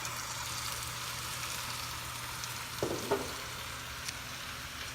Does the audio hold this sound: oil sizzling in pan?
yes